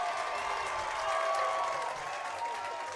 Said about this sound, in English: The crowd loves it as Anthony Quigley comes home on a passed ball